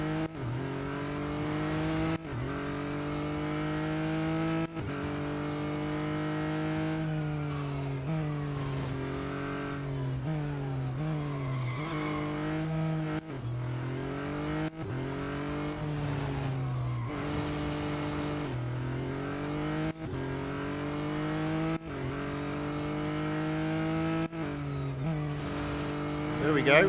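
A McLaren race car in the mobile racing game Real Racing 3 revs and shifts through gears, its engine pitch repeatedly climbing and dropping with occasional tire squeal, loud and continuous.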